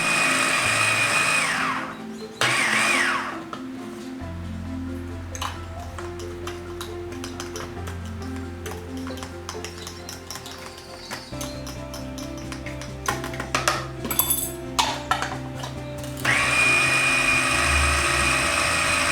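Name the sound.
food processor blending boiled lentils into paste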